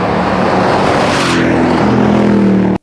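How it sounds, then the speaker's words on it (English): A Harrop-modified Nissan Y62 Patrol petrol V8 revs hard, a loud, close roar that holds and swells before cutting off abruptly. "That's the Harrop modified Y62 Petrol"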